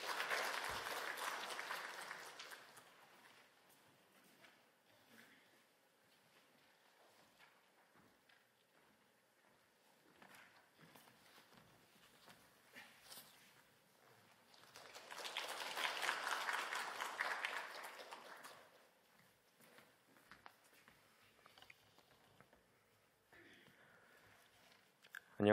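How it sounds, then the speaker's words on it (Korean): Church congregation at a Sunday service applauding in two bursts, each a few seconds of soft, distant clapping, separated by a long quiet stretch with scattered faint noises. "박수로 한번 축복해 주시기 바랍니다."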